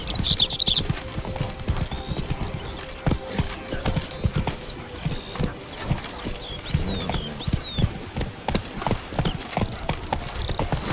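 Horse hooves clip-clop steadily in the Witcher 3: Blood & Wine video game, a brisk continuous rhythm with a brief whinny near the start and light surrounding game ambience.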